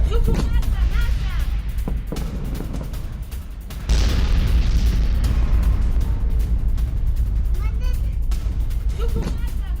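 Heavy, continuous rumbling booms from Israeli strikes on Hezbollah rocket launch pads in Lebanon, loud and dense throughout, with a voice talking over them.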